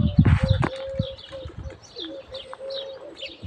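Pigeons call near a loft with soft coos and short chirps, faint and scattered over a quiet background, with a few louder rustling thumps at the start.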